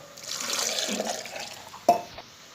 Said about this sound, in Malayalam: ഇത് മിക്സിയുടെ ജാറിലോട്ട് ഒഴിക്കുക.